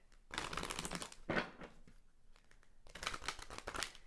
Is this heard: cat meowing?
no